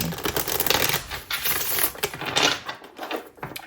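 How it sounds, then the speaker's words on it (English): Riffling a deck of tarot or oracle cards, a dense run of rapid papery clicks and flutters that fills most of the stretch, close and fairly loud, then tapers off near the end. "I need to shuffle one more time."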